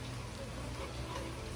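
Rain falls outdoors as a steady, soft, even hiss of drops on surfaces, continuous and fairly faint, with no talking.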